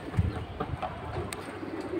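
Pigeons coo softly in low, throaty bursts, a few calls near the start and scattered coos after, against a faint ambient hum.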